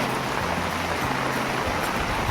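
Rain falls in a forest during a search for wild vegetables, a continuous broadband patter and hiss at moderate level with no voices over it.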